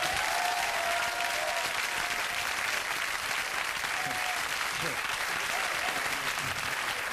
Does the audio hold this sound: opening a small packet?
no